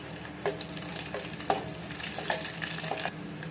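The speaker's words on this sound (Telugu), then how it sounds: "ఎండుమిర్చి, దంచిన వెల్లుల్లి, తాలింపు గింజలు వేసుకుంటున్నాము." Dried chillies and crushed garlic with seasoning seeds sizzle steadily in hot oil for a Telugu tempering, a continuous close crackle broken by a few sharper pops and spits, with no talking.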